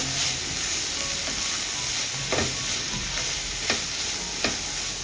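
Garam masala and spices fry in a hot pan while being stirred, giving a dense, even sizzle with a few soft spoon scrapes against the metal.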